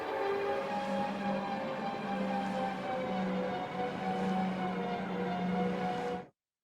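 A Star Wars speeder bike effect built from a police car siren and processed in Cubase/Nuendo, slowed with a MIDI keyboard pitch bend: a steady, dense whirring drone with layered tones that holds for about six seconds, then cuts off abruptly.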